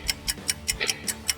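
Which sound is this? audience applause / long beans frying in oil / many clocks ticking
many clocks ticking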